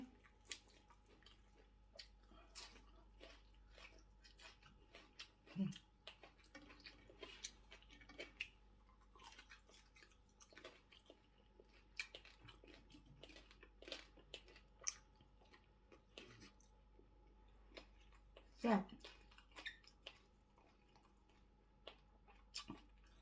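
Quiet, close chewing of oven-dried Thai braised pork leg, with soft wet smacks and occasional sharp bites or clicks spread unevenly through a near-silent room, and no talking.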